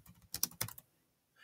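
Quick clicking keystrokes on a computer keyboard while working in a terminal text editor, a short close burst of several taps followed by quiet, then one faint tap.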